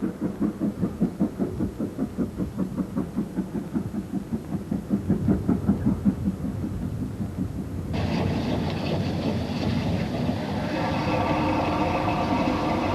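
A steam train runs on the Severn Valley Railway, its wheels beating a steady clickety-clack rhythm that gives way to a broader, rushing rumble partway through, continuous and fairly close without any speech.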